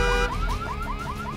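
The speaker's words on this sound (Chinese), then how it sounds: "启动警报器。" A car alarm triggered in the zombie game OVERKILL's The Walking Dead wails in a steady repeating rising whoop, loud and close, with no talk over it.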